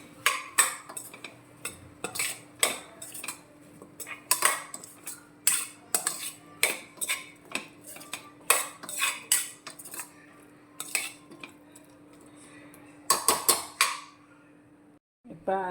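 Kohlrabi being mixed with masala in a pan for kohlrabi kulambu, a spoon clinking and scraping against metal in an irregular run of sharp, close knocks, with a steady low hum underneath.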